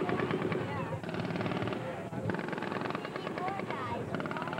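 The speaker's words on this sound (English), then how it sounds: "You can hear the high cyclic rate of fire of the M240 Bravo machine gun." An M240 Bravo machine gun fires at a high cyclic rate during an Army Ranger demonstration at Hunter Army Airfield, its rapid bursts sounding at a distance beneath a narrator's voice.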